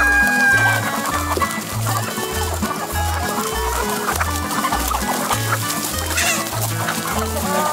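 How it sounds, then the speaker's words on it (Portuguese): Free-range Piauí chickens of the canela preta breed clucking in a lively flock while being fed corn, with steady close clucks over a rhythmic background beat. "hora animada é quando chega o momento de oferecer milho às galinhas"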